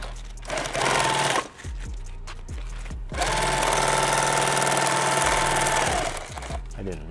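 A sewing machine stitches back and forth through nylon webbing on a party bag, bursts of fast mechanical chatter stopping and restarting, loud and close, with brief pauses between runs.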